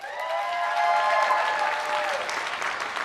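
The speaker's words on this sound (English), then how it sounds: "we need a big round of applause for our host tonight" A studio audience applauds host Blake Martinez in a full, sustained round of clapping, loud and even across the whole stretch, with a faint tone ringing underneath.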